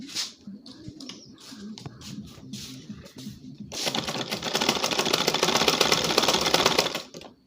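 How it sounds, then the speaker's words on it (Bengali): A sewing machine stitches a dinner collar onto a kameez, running in a loud, fast, steady whir of needle strokes for several seconds after a few short starts and stops at the beginning. "দেখেন এখানে গোড়ায় আমরা একটা সিলাই দিয়ে নেব।"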